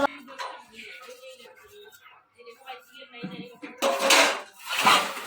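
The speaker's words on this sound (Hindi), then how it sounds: "बुआ तो बर्तन धो रही हैं" Dishes and pots being washed by hand in a home, with clinks of metal utensils and clattering pans growing louder toward the end, heard under ongoing conversational speech.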